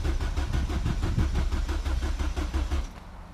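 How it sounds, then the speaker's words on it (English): An engine is cranked over after priming, a rapid rhythmic chugging of repeated starter turns at close range that carries on for nearly three seconds and then stops abruptly. "Before turning the engine on, you have to prime it."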